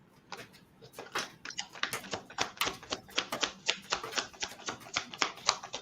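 Tarot cards are shuffled close up in a quick, crisp run of tapping, riffling snaps that grows denser and more rhythmic as it goes.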